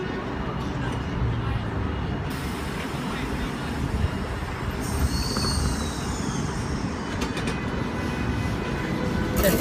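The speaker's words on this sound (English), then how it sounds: "first train here at Morningside" A train rumbles steadily at close range at Morningside Station, with a continuous low drone and faint higher squeals, a broadband hum filling the whole stretch without pause.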